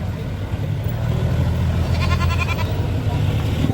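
Goats for slaughter bleat in a short, wavering burst amid the steady crowd murmur and engine rumble of a busy Philippine livestock market, with people talking throughout.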